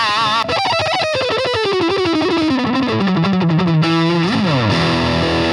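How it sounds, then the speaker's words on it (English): Heavily distorted electric guitar through a distortion pedal, a saturated crushed tone playing a descending melodic line with a slide at the end, loud and steady with no talk. "pedals are meant to alter the waveform significantly to really sound like your waveform is being crushed and destroyed and distorted."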